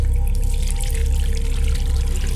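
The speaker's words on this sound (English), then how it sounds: "He heard the tap turn on" Steady water pours from a bathroom tap into a sink in a constant rushing stream, close and fairly loud, with a faint resonant hum beneath it.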